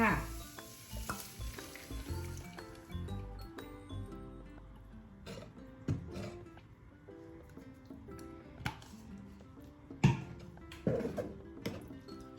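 Ham sizzling in a pan as cheese and cream go in for spaghetti carbonara, a close crackling fry broken by stirring scrapes and clinks, with sharp knocks of utensils against the pan.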